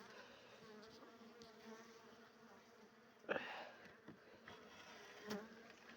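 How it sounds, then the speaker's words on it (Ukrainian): A dense, continuous drone of many agitated honeybees buzzing in a hive in cold winter weather, close by, with occasional louder individual buzzes passing near. "Бджола тривожиться, бо то холодно."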